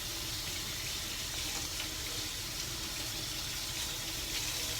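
Tap water running steadily over meat being washed in a kitchen sink, a continuous broadband hiss and splash at moderate level with no pauses.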